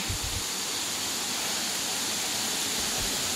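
Kataw Falls in Tangalan, Aklan, a dense, steady roar of falling water filling the air at close range, constant and loud with no breaks and no voices.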